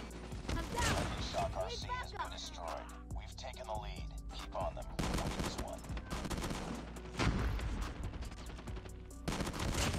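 Shotgun fire in Call of Duty Mobile booms repeatedly through dense game audio, with shots scattered across the stretch alongside other gunfire and effects, and a voice talks over it.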